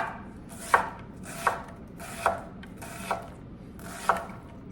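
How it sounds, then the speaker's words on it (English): A knife chops through an onion on a cutting board in five evenly spaced crisp thuds, close by with no talking. "I'm going to make little cuts in the onion."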